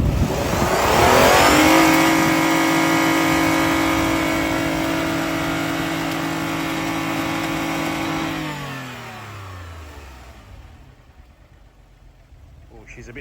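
A Toyota Kluger that sat unused for years runs with a loud, steady engine drone up close for several seconds, then winds down and shuts off, leaving near silence.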